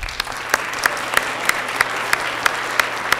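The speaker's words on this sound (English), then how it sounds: "Why don't we give him a round of applause?" A small round of clapping at the Baldwin Park 2013 State of the City Address, sounding like one or a few distinct, evenly spaced claps against a quiet room, fairly close and crisp.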